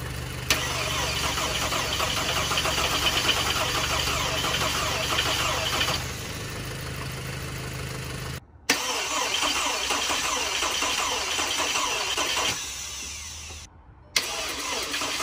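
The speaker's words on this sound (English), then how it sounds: "And let's see if this thing will fire." A 2011 Volkswagen Tiguan engine cranks and catches, running loud and rough up close, cutting out, then restarting into a steady idle with another brief dropout.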